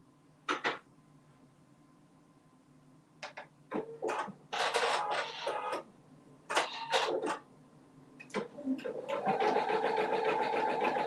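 Embroidery machine stitching a design of a little over 2,000 stitches, heard as bursts of fast, rattling needle action that stop and start, ending in a sustained busy run.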